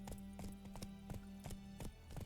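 Horse hooves clip-clop in The Witcher 3 video game, a steady galloping rhythm of quick, faint thuds heard on their own.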